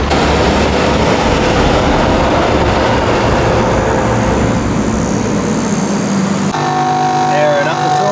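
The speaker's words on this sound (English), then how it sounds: "Airing up the tires" A compressor airs up camper trailer tires at a beach campground, a loud steady droning hum running throughout with a dense rumbling texture, shifting near the end as a faint whine appears.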